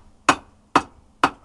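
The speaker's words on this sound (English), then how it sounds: "Just a smaller hammer." Three evenly spaced, sharp hammer blows ring out on hot metal at a forge, using a smaller hammer to round a hay hook; each strike is clear and close with a short ringing decay.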